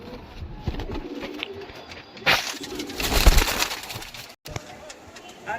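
Pigeons at a pigeon show and sale give soft, repeated coos amid a busy crowd, with voices murmuring in the background and a sudden burst of louder rustling partway through.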